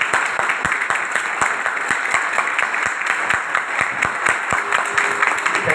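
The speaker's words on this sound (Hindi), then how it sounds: "जोरदार क्लैपिंग करें आप।" A seminar audience claps hard on cue, loud and close, a dense burst of applause with sharp individual claps running throughout.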